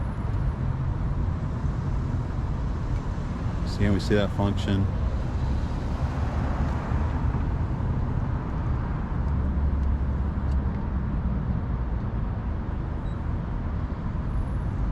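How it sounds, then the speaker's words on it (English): A 2018 BMW 440i convertible's power top lowers with a steady, even mechanical whir and hum that runs throughout, while someone talks briefly over it. "In about 20 seconds, that will lower the complete top of the car also"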